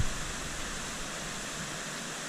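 A mountain stream near the Shypit waterfall in Pylypets rushes in a steady, broad hiss with no breaks, fairly faint and with no voices over it.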